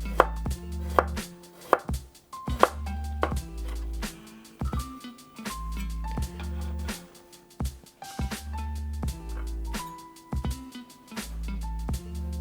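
Steady, quick knife strokes tap against a cutting board, thinly slicing garlic in a continuous close rhythm with soft background hum.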